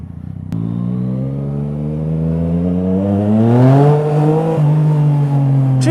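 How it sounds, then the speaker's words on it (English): A Yamaha MT-09 motorcycle fitted with an Akrapovič exhaust starts abruptly and revs up steadily, its loud, close engine note climbing in pitch over several seconds and then holding high with no talking. "I'm on an MT-09 with the Akrapovic exhaust."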